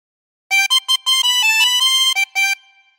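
A 24-hole tremolo harmonica plays a short phrase of Three Blind Mice, about eight clear bright reedy notes with a wavering shimmer in a quick rhythm, loud and close, ending in a brief fade.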